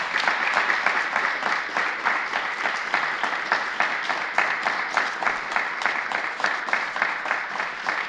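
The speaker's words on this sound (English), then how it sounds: "give her a round of applause for her accomplishments" Sustained applause from an audience at a 2021 Chamber annual meeting honoring a community award recipient: dense, even clapping that holds steady and fairly loud throughout, with no voices over it.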